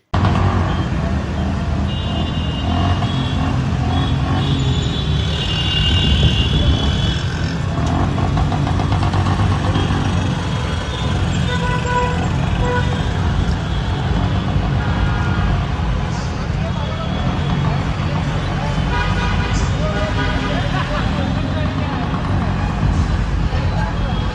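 Several motorcycle engines rumble and idle together during a street protest procession, a steady loud drone of engines with a busy crowd of voices mixed in throughout.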